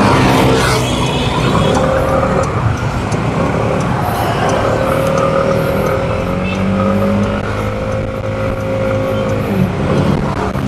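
Kymco Skytown 150 scooter underway, its engine drone and road noise running steadily and loud throughout, with wind rush and no talking.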